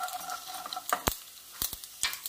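Mustard seeds splutter in hot oil in a pan while making Gujarati kadhi, giving a few sharp, close pops with a brief pause between them over a faint, steady sizzle.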